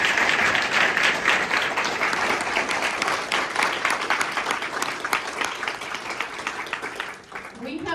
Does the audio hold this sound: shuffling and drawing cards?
no